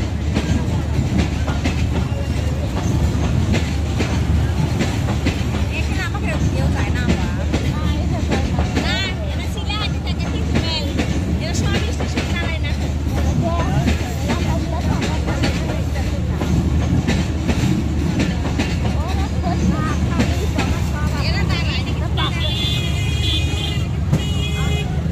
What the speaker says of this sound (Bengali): এখানে আসতে আসতে ট্রেন চলে আসছে